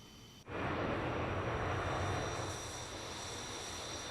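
Bell X-1A rocket plane engine in Microsoft Flight Simulator 2020, a steady loud roar that kicks in abruptly after a brief quieter hum and holds broadband and constant, easing slightly toward the end.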